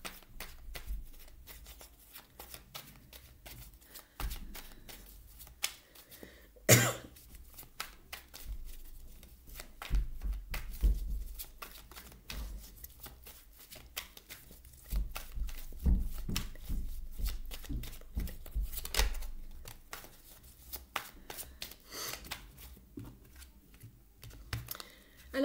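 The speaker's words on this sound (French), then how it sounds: "je vais prendre une carte" Tarot-style reading cards handled and drawn from a deck, giving intermittent soft flicks, slides and taps at close range, with quiet gaps between them.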